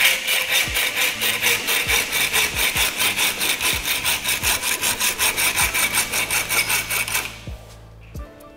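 A hand saw cuts through an integrated bicycle seat mast tube in a steady back-and-forth rhythm of rasping strokes, close and loud, then stops near the end, leaving a couple of faint knocks.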